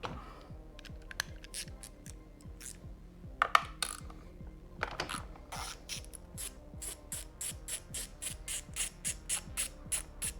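A socket wrench with an extension backs out 8 mm bolts on a Honda Grom MSX125 motorcycle, making close, rapid ratcheting clicks in steady rhythmic bursts with a few metallic knocks between them.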